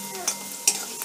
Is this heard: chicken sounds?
no